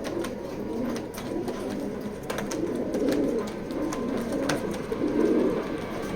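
Racing pigeons at a loft coo in soft, rolling phrases that rise and fall over a steady low murmur, with a few sharp clicks and rustles and no voices.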